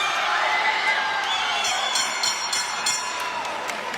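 Boxing arena crowd in San Bernardino cheers on a hometown fighter as a close bout ends, a continuous roar of voices with scattered whoops and applause, slowly easing toward the end.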